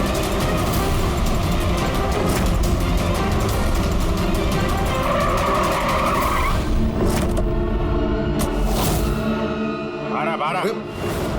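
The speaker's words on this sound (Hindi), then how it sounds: "वो रही कार।" A car drives fast with its tires skidding and squealing during a police pursuit, with a steady engine roar and voices talking over it.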